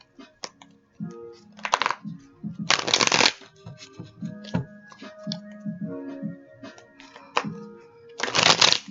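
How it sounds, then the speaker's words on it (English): Tarot cards are shuffled in several loud riffling bursts spread across the stretch, with softer handling and card slaps in between and faint talk underneath. "One more shuffle here for me, please."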